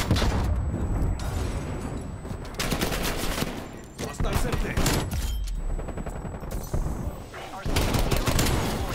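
Rapid gunfire bursts and shots in the video game Call of Duty: Black Ops Cold War, loud and close, alternating with brief lulls while players talk excitedly.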